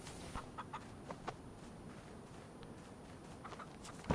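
A chicken in the DayZ survival video game gives soft, scattered clucks over a steady ambient hiss, faint and somewhat distant.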